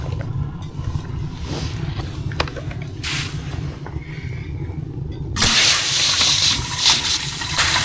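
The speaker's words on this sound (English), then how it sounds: "Then we'll fill it up with water." Running water pours steadily into a kettle in a campervan, a soft trickle that suddenly becomes a louder, rushing gush near the end.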